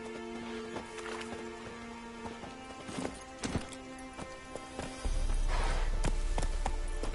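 Roach the horse's hooves clip-clop in a steady walking rhythm in The Witcher 3: Wild Hunt, up close over tonal game music, with a louder rush of noise near the end.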